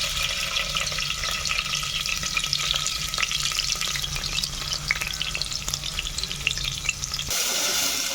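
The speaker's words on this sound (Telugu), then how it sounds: "ఉల్లిగడ్డలు వేస్తున్నాను." Onions frying in hot oil on a home stove, giving a steady, dense sizzle with small crackles throughout that cuts off abruptly near the end, leaving only a faint hiss.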